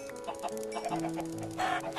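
Chickens cluck in Minecraft Feed the Beast, with a few short, close clucks and squawks in quick irregular succession.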